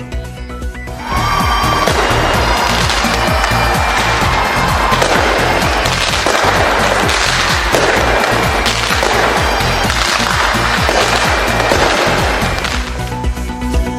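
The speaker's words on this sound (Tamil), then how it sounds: "அசத்தல் வான வேடிக்கைகளுடன் ஆக்லாந்து நகரில் புத்தாண்டு கொண்டாட்டம்" New Year fireworks over Auckland: a dense, continuous crackle of many bursts and pops, loud and steady for over ten seconds with no talking.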